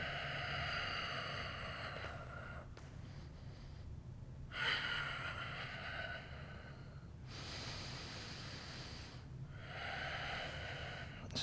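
Slow, controlled breaths during a home yoga session, each long airy inhale or exhale rising and fading in a steady rhythm with short quiet gaps between, close and fairly soft.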